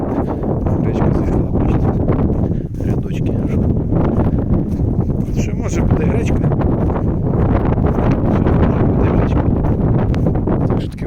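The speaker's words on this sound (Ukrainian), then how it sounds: "тут дуже сильний вітер" Strong wind roars and buffets the microphone continuously across a buckwheat field, a loud low rumble with gusty flutter throughout, drowning out everything else.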